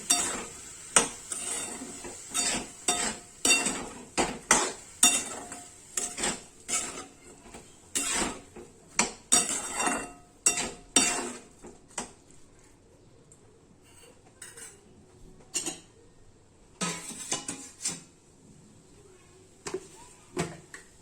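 A spoon scrapes and clinks against a pot while masale bhat with rice and spices is mixed, in a series of sharp, irregular knocks and stirring strokes with a faint sizzle underneath and quieter pauses between.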